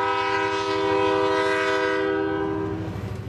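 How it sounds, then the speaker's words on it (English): A train rolls past a front porch, its horn sounding with strong sustained tones over the steady rumble of cars on the rails, loud and close throughout. "I love the sound of the train tracks."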